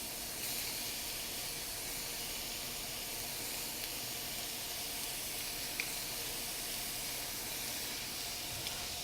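Scallops simmering and sautéing in a hot pan, a steady soft sizzle and hiss running evenly throughout with no voices over it.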